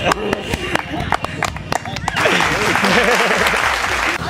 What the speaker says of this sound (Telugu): super claps